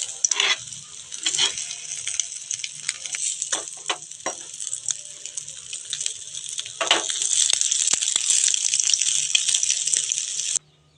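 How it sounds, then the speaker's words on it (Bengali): Egg patties fry in white oil in a pan with a steady, close sizzle throughout, interrupted by occasional clinks and scraping stirs, the frying swelling louder toward the end before stopping abruptly. "এইভাবে ভেজে নেবো সবকটা।"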